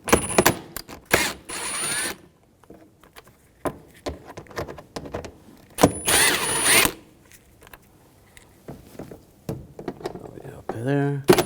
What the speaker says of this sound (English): use a T25 socket, take these out